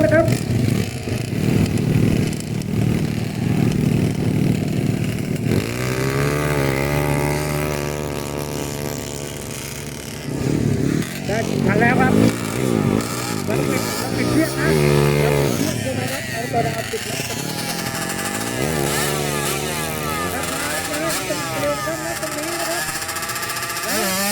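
Motorcycle sidecar tricycles (saleng) in a 100-metre straight drag race at a track in Chachoengsao, Thailand: engines rev and whine in rising and falling surges. A loud announcer talks over the engines almost the whole time.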